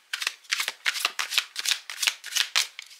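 Oracle cards shuffled by hand in a rapid, steady run of crisp riffling bursts, close and fairly quiet, with no voices.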